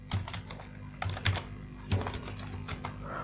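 Close, steady typing of HTML code on a computer keyboard, with quick bursts of key clicks and a few heavier key thumps over a low, constant hum.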